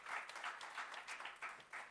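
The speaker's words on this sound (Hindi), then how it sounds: "गुड, जोरदार ताली" Audience applause in a seminar hall at a workshop session in Nagpur, a steady sustained clapping from a sizeable crowd that swells in waves for about two seconds, with no talk over it.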